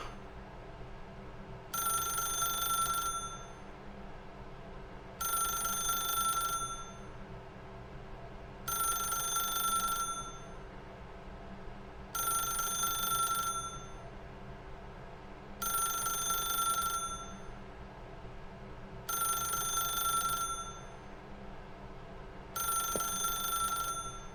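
A telephone rings repeatedly in The Stanley Parable: Ultra Deluxe video game, seven evenly spaced bursts of electronic trilling, each about a second long, separated by short gaps over a quiet background hum.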